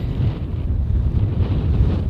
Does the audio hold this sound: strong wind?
yes